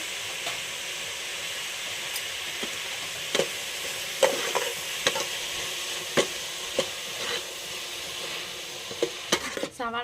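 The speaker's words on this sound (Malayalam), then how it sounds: "അപ്പോൾ നമ്മൾ സവാള പെട്ടെന്ന് വഴണ്ട് വരെ നമുക്ക് ഉപ്പും കൂടെ ചേർത്ത് കൊടുക്കാവേ" Onions sauté with salt in a pan in a home kitchen, a soft continuous sizzle broken by repeated clicks and scrapes of a spoon stirring against the pan, with one louder clatter near the end.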